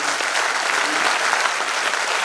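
A large audience at a staff event claps loudly and steadily, a thick unbroken wash of applause filling the whole moment with no voices over it.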